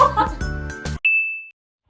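A notification bell sound effect rings a single clear, bright ding that hangs and fades, following a short burst of speech and ending just before talk begins again.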